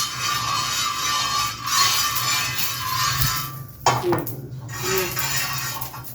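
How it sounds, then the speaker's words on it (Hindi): Metal scraping and clinking on a tawa griddle as it is greased for roti in a home kitchen, with a steady background hum, then a couple of sharper knocks near the end. "अच्छे से मैंने ग्रीस कर लिया।"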